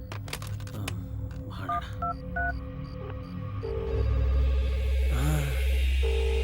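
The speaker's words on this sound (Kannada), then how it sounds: "ರಿಂಗ್ ಆಗ್ತಿದೆ ರಿಂಗ್ ಆಗ್ತಿದೆ" A telephone in a horror film scene sounds with electronic tones and beeps, loud and alone with no voices, a sustained buzzing ring swelling in the second half.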